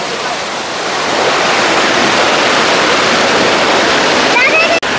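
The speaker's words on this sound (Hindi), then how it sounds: "और ये देखिए झरना, जो पानी झरने का जो पानी है वो नीचे" Bamani and Turga Falls in Ayodhya Pahar, Purulia roar in a dense, constant rush of falling water, loud and close, filling the whole scene with broadband hiss.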